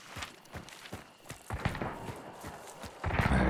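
Horse hooves in the video game Hunt: Showdown, a run of faint, regular clip-clop beats at a trotting pace, somewhat distant, before a louder rushing noise takes over at the end.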